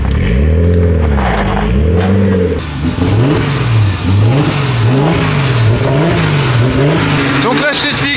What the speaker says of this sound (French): Et là regarde, c'est une voiture d'américain.